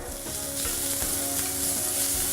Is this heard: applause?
no